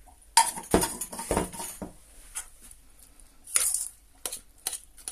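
Spoon mixing flour in a bowl, a series of clinks and scraping strokes in bursts, loud and close, separated by short quiet pauses, with no voices.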